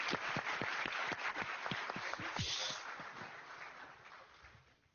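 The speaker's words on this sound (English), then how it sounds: "Big applause, please, first." Conference audience applause, a dense patter of many hands clapping close by that gradually thins and fades out over several seconds.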